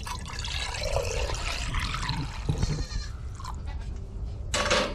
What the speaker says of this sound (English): We have a strainer with a cup here. We're just gonna strain this milk.